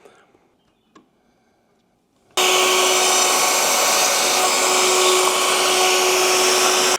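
A wood router cuts through thin veneer in tiny passes of a tenth of a millimetre, starting after a quiet moment with a sudden loud, steady high-pitched whirring roar that holds until the end.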